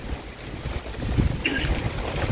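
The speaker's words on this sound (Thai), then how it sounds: "โอ้ลมแรง" Strong wind blowing outdoors, a continuous rough rushing and buffeting against the microphone with low rumble, steady and fairly loud, no speech.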